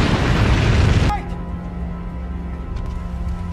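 A bomb blast in an action film about terrorists and police lands as a loud, dense burst that quickly drops to a lower rumbling hum and lingering background noise.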